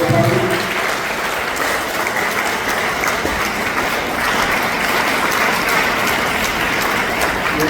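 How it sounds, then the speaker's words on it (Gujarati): A church congregation at a Syro-Malabar Marian novena in Gandhinagar applauding together, steady dense clapping sustained throughout at close range with no pause. "આપણે બધા તાળીઓ પાડીએ."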